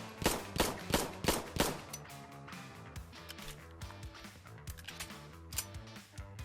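Browning High Power 9mm pistol firing in the video game Insurgency: Sandstorm, a quick string of four loud sharp shots up front, then scattered fainter reports over a steady droning musical background.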